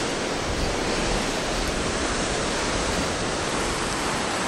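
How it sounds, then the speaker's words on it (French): Small ocean waves breaking in the distance at Puerto de la Cruz, Tenerife, a steady broadband wash of surf rolling continuously with no voices. "C'est des petites vagues au loin."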